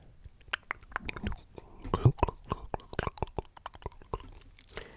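Cookies crunch close to the microphone in an ASMR recording. Crisp bites and chewing crackle in quick, irregular bursts, with soft whispering in between.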